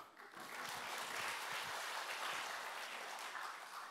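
Congregation applauding during an evening revival service at a church, a lively, sustained round of clapping from many hands filling the whole stretch at even strength.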